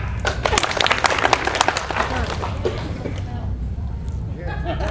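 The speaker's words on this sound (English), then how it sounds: "Everyone that's seen the scene, clap." A convention panel crowd for The Devil's Rejects at Days of the Dead in Atlanta claps in a dense, fast patter that fades toward the end. Voices talk and murmur over the clapping throughout.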